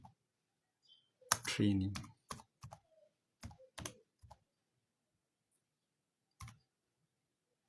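Computer keyboard typing as a YouTube channel name is entered, scattered close key clicks in short bursts with a brief spoken word among them and quiet gaps between.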